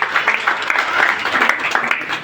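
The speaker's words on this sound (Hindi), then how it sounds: "मैं आप सबसे आग्रह करूंगा जोरदार तालियों से इनका स्वागत करेंगे।" An audience at a political gathering in Nandi village, Saharanpur, claps to welcome a guest. The applause is dense, continuous and fairly loud, and it holds steady for a couple of seconds.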